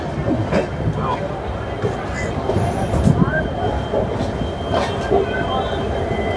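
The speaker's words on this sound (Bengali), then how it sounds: "খড়গপুর স্টেশন ট্রেন ছেড়ে দিল" Shalimar–Puri Dhauli Express train pulling out of Kharagpur station, a steady loud rolling rumble of wheels on rail with faint squeals and scattered clanks, busy station ambience around it.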